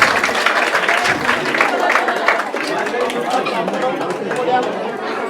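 Village crowd at a muruja competition clapping hands in dense, continuous applause mixed with chatter and voices throughout.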